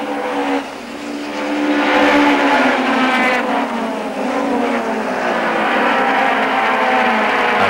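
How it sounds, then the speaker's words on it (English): Several touring cars, including Audis, roar past close by at the Kyalami circuit in 1997, their engines rising and falling in pitch as they chase each other at high speed. "a terrific duel developing between de Santos, Wilkin and the Rothmans Audis"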